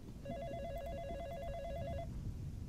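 A telephone ringing in the Sadako horror video game, one continuous trilling electronic ring lasting about two seconds, faint under a low rumbling background hum.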